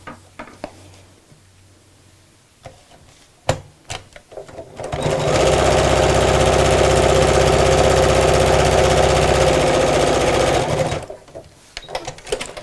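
A sewing machine runs in one steady, loud continuous stretch, stitching straight across the bottom of a fabric craft bag with pockets. A few light clicks and handling sounds come before and after the run.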